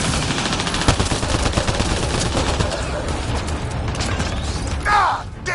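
Dense, sustained gunfire and mechanical clatter from a firefight in Mass Effect Andromeda, loud and continuous with rattling bursts, ending with a brief whooshing sweep.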